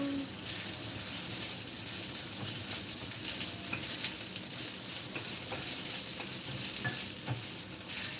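Filipino breakfast fried rice with egg and dried anchovies frying and being stirred in a pan in a home kitchen, a steady close sizzle with scraping stirs, plus a running tap and faint clatter.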